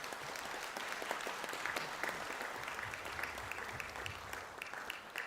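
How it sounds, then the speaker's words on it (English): A graduation conferring ceremony audience applauds the Food Product Innovation graduates, with dense, steady clapping from a fairly large hall crowd that stays even for the whole stretch, heard at a slight distance. "I ask you to give the graduates from the Food Product Innovation Programme a round of applause"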